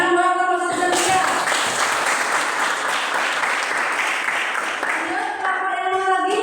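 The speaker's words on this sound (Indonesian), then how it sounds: "tepuk tangan buat kelompok 1 dan 3." Applause from a classroom of students, a burst of dense clapping lasting several seconds, with voices audible around it.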